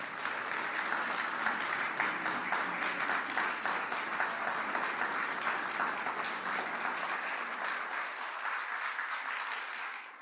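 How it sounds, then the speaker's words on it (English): Sustained audience applause at a holiday pageant, a dense steady wash of many hands clapping that holds for about ten seconds before tapering slightly at the end, with no talking over it. "I think we can give a round of applause for"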